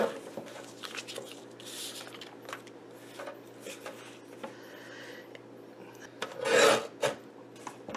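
Damp printed paper is trimmed into 4-inch strips on a cutting board, giving soft rasping scrapes and rubbing strokes in irregular bursts, close and fairly quiet, with a louder scrape near the end.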